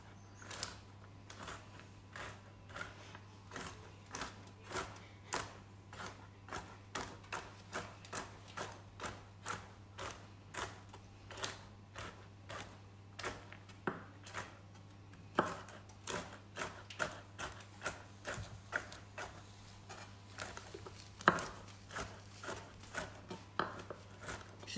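Knife chopping roasted, skinless hazelnuts on a board, a long run of sharp, evenly spaced cuts at a steady moderate pace, close and clear over a low constant hum, with no talk.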